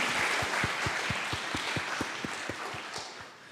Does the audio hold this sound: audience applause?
yes